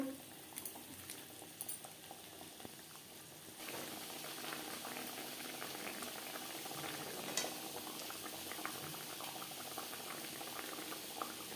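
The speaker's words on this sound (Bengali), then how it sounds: "তিন চার মিনিট গ্রেভি বেশ ভালো করে ফুটিয়ে নেব" Fish curry gravy bubbling at a steady boil in a pan, a dense continuous bubbling and hissing that grows fuller after the first few seconds, with occasional soft clinks.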